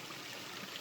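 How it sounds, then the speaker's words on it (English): Water splashing and spilling from a container while a new koi is moved into a pond, a brief, soft rush of trickling water. "I'm spilling all the water"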